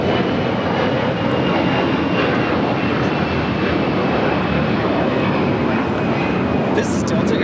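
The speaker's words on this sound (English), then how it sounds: "This is Delta Airlines 413 taking off to Minneapolis on the A321." A Delta Airlines A321 jet takes off from LAX, its engines a loud, continuous broadband roar that holds steady throughout, with a faint whine above.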